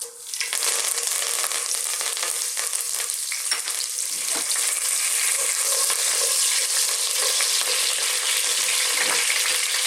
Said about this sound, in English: we're going to put in our fresh curry leaves